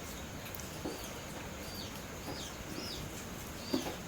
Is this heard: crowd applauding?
no